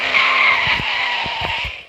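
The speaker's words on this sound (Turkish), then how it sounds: "Çok kayıyor araba." In the mobile driving game Extreme Car Driving, a car's tires give a sustained, loud, high skidding squeal over the engine drone, with a few short bumps and knocks.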